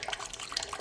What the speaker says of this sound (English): So let's pour this in, if I can do this without making an absolute mess.